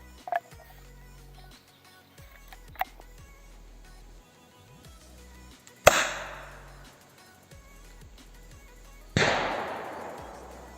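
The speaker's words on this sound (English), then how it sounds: "Now let's mount the grenade launcher on the AK-74." An airsoft M203 grenade launcher mounted on an AK-74 fires, heard as two sharp, loud reports each followed by a hissing decay, with quieter clicks and handling noises in between.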